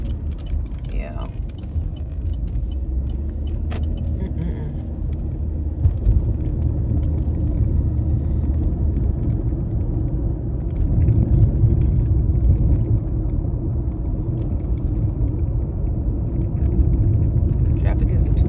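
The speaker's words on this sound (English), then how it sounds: "Traffic isn't too bad right now." Steady low road rumble of cars on a Phoenix, Arizona street in the morning, a continuous near drone that runs the whole time beneath ongoing conversation.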